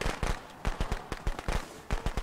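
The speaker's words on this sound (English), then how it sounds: "Don't you throw those fireworks at me." Fireworks in the Friday the 13th video game go off as a rapid string of sharp, crackling pops and bangs, irregularly spaced and fairly close, with no voices over them.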